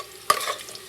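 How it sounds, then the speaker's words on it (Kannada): Onion dropped into a hot pan of oil gives a sudden burst of sizzling, followed by a lighter crackling fry and faint stirring, close and alone. "ಆನಿಯನ್ ಹಾಕ್ಬಿಟ್ಟು ಸುಮ್ಮನೆ ಫ್ರೈ ಮಾಡ್ತಾಯಿದ್ದೀನಿ"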